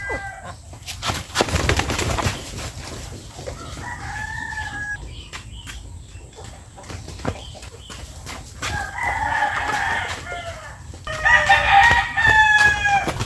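Backyard chickens cluck and squawk at feeding time, with a rooster crowing and wings flapping, calls overlapping at close range over a steady farmyard background.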